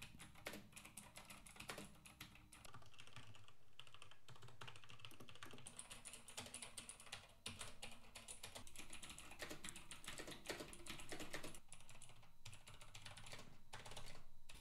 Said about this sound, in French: un test de frappe au clavier permet de tester la résistance au bruit hors axe du microphone.